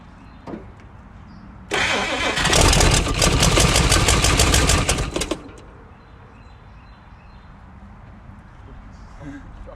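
A 1956 Chrysler Windsor V8 catches and runs loudly for a few seconds with a rough, pulsing roar, then cuts out into quiet. Birds sound faintly in the background and a brief voice comes before the engine starts.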